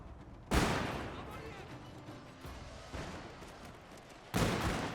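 Musket volleys from firing lines of Japanese soldiers in the Shogun 2 Total War video game, with sharp loud cracks at the start and end and a softer shot in the middle, over a steady battle din.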